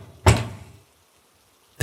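Two loud knocks on a closet door, reenacted at night, heavy booming thuds spaced well apart with silence between, close and alone.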